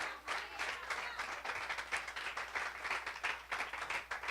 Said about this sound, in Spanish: si lo quiere aplaudir, lo puede aplaudir con libertad.